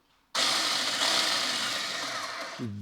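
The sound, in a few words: mini electric cordless chainsaw cutting a log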